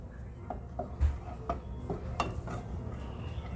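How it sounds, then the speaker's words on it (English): Pot of rice with turmeric given a quick stir, a series of light, close clinks and scrapes of a spoon against the pot, spaced irregularly over a quiet kitchen background. "give that a quick stir"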